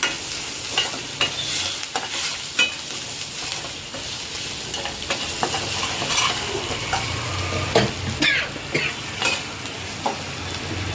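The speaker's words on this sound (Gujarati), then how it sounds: "હવે આપણે એમાં હળદર નાખી દઈશું એ બધું મિક્સ કરી દઈશું આપણે" Ragda simmering in a pot on low heat gets stirred with turmeric, giving a steady scraping, swishing rhythm with soft sizzle underneath and occasional sharper clinks of the spoon.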